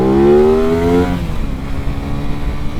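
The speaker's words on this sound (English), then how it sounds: "The GSX-8R again, 776 cc parallel twin, producing a load of horsepower," Suzuki GSX-8R sport bike with a 776 cc parallel twin revs up loud and close, its pitch rising sharply for about a second before dropping to a lower, steadier idle-like drone.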